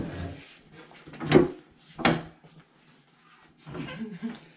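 A drawer on a newly built desk is pulled open and pushed shut, giving two sharp wooden knocks a short moment apart, with quieter sliding scrapes and faint talk before and after.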